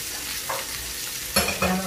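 Kebabs fry in a pan with a steady oily sizzle. Sharper crackles and stirring scrapes burst out near the end. The sound is close and heard alone without speech.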